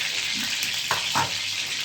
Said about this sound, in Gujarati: બાફીને હું એનો વઘાર કરું છું.